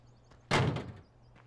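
The side panel of a Krone Ultima CF 155 XC baler in Farming Simulator 17 shuts with a single solid slam, a short clean thud that fades within half a second over a faint steady hum.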